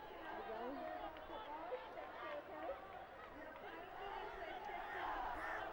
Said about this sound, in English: And the Thomian crowd cheering for St. Thomas football team.